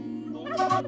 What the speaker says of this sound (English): turkeys or baby turkeys or poults